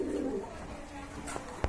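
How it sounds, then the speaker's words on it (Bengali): Racing pigeons for sale, including a red checker racer pair, coo at close range in low, rolling calls across a short stretch, ending with a brief sharp noise. "এই যে দেখেন কোয়ালিটি সম্পন্ন কবুতর"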